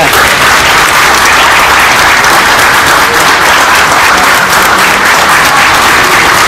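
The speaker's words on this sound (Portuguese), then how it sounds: "Nossa, o pessoal não para de aplaudir, querido." A standing audience applauds loudly and without pause at an event in Brasília, the clapping a thick, even wall of sound that fills the whole stretch.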